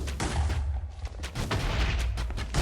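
Rapid bursts from a machine gun bow in modded Minecraft with auto fire and upgraded draw speed, a dense stream of sharp game shots loud and close with no talk.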